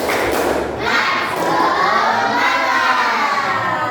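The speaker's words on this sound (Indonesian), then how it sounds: "Yuk, tepuk semangat." Schoolchildren in a classroom perform the tepuk semangat cheer, a burst of rhythmic clapping and loud shouted chanting from the group, energetic and close.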